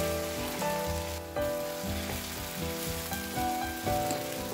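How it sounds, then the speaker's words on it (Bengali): Noodles with green chilies frying in a pan, a soft steady sizzle under repeated scraping and tossing strokes of a utensil, moderately quiet and close. "আবারও ভালো করে নেড়ে চেড়ে নিচ্ছি"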